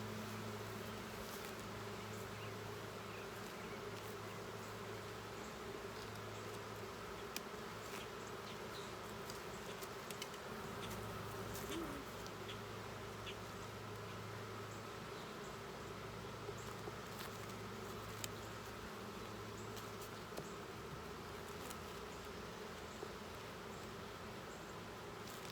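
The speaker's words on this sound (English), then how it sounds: "Definitely more bees than when it got put into this" Steady droning hum of many honeybees gathered at the front of a hive, continuous and even throughout with faint scattered ticks, moderately close.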